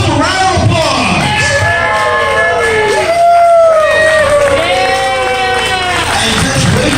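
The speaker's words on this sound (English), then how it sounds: "Give yourselves a round of applause." Wrestling fans at a Pro Wrestling 2.0 event cheer, whoop and yell as a loud, steady crowd roar that fills the whole stretch, with shouted voices rising over it.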